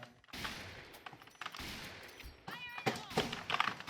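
Bursts of rapid video game gunfire from Point Blank crackle over busy in-game noise, coming in short volleys across a few seconds.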